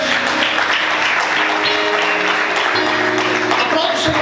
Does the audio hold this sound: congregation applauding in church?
yes